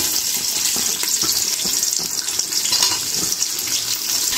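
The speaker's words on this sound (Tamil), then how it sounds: "இப்போ இதில் கட் பண்ணி வச்சுருக்கிற ஆனியன் சேர்த்துடலாம்" Chopped onion tipped into a pan of hot oil with cinnamon and cloves for a green pea pulao, giving a steady, close, loud hissing sizzle with faint stirring clatter throughout and no talking.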